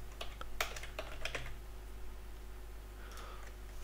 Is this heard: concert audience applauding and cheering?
no